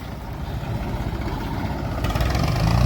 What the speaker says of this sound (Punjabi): ਟਰੈਕਟਰ ਦੇ ਵੱਧ ਜ਼ੋਰ ਇਹਨੇ ਲਾਇਆ